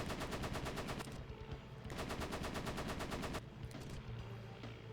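Rapid WWII aircraft machine-gun fire in the arcade flight game Flying Tigers: Shadows Over China, loud sustained bursts of fast rattling shots broken by short pauses, with no talk.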